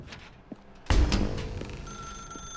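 An old-fashioned telephone in The Stanley Parable begins ringing abruptly after a faint click, its bell sounding loud and sustained in a quiet room.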